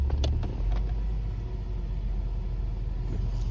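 A Ford Thunderbird engine idles with a steady low rumble while the transmission is shifted through its gears, with a few faint clunks near the start.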